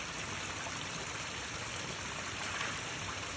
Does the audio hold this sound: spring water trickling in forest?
yes